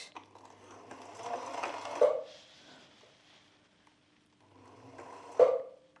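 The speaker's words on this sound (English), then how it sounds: "Now it's just to sew it down." A home sewing machine running in two short bursts to sew fabric down, a close whirring hum ending in a sharp clack each time, with a quiet pause between the runs.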